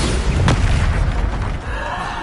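A Bombarda explosion spell cast in the Hogwarts Legacy video game, a loud, dense blast with a sharp burst near the start that fades into a rumbling roar.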